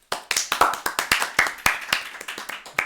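Sparse clapping from a small group at a Beyblade awards ceremony, about a dozen sharp, uneven claps spread across the moment, fairly close with no talk over them.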